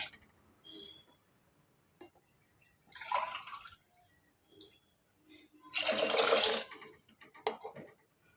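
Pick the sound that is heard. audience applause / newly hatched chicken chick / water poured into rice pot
water poured into rice pot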